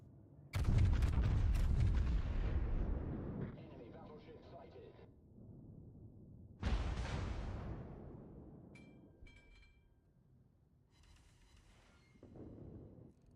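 Heavy naval guns boom twice in World of Warships, each deep blast followed by a long rumbling decay, with fainter mechanical clatter and soft speech in between.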